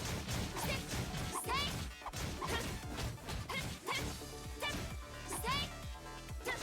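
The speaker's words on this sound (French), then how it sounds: "Ça explose de partout." Explosions and combat impacts from the video game Honkai Impact 3rd crash in dense succession over busy game music and effects, loud and nearly continuous, with sharp bursts repeating throughout.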